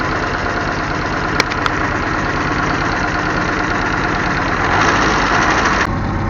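A Willys CJ3A jeep engine idles at a loud, even, steady rumble close by, with a couple of faint clicks and no voices.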